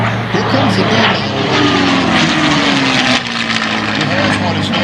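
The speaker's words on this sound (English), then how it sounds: "Here comes the D model." A D model warbird propeller airplane flying past at an airshow, a loud droning engine roar whose pitch slides downward as it goes by, with crowd or voice sounds mixed in.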